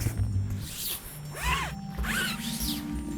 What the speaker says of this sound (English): I hate it when the zipper jams.